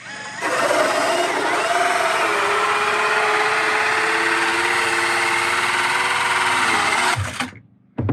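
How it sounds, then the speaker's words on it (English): A loud 60-volt DeWalt cordless drill whirs steadily for about seven seconds with a 3-inch hole saw grinding through a log cabin wall, then winds down abruptly. "It's a DeWalt battery, great big 60-volt drill with a 3-inch hole saw on it."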